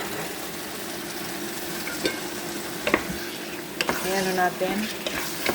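Steady sizzling of chicken frying in a pan, with a few clinks of a utensil and brief speech near the end.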